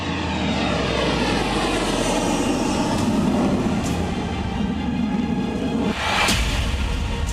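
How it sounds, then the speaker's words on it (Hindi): A Sukhoi Su-57E fighter jet flies at the Dubai Airshow, giving a loud, continuous roaring engine rush that swells slightly near the end, with no speech. "न सिर्फ तेजस बल्कि रूसी सुखोई Su-57 ने भी दुबई के नीले आसमान में करतब दिखाए"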